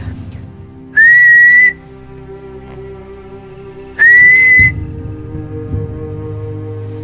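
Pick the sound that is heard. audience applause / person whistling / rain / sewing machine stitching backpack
person whistling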